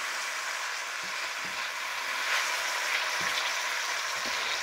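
Mahi mahi fillet frying in a hot pan after being flipped, a steady close sizzle with faint occasional scrapes and no talking.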